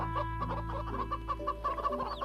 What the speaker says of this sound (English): Get rid of these chickens.